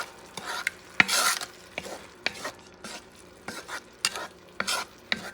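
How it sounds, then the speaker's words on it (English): Beef stew base stirred in a frying pot for a braised beef neck bone stew, a spoon scraping and clinking in repeated strokes over a soft, steady sizzle, close and moderately loud. "Mix things around. Now you're creating your base."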